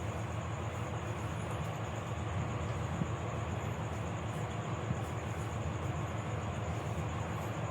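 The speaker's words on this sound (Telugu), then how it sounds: "ట్రైన్ అయితే అప్పుడే వెళ్తూ ఉంది, పూరి ఎక్స్ప్రెస్ అనుకుంటా" A passing train, probably the Puri Express, near the Penna barrage in Nellore, heard as a steady, continuous low rumble with clattering texture that stays loud and unbroken throughout, with no voices.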